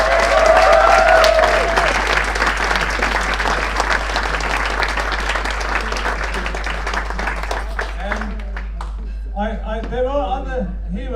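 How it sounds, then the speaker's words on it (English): An audience at a dinner with speeches breaks into loud, close applause for a speaker, sustained clapping that slowly thins, with a voice beginning to talk over the fading claps near the end. "Round of applause for Asa Winstanley."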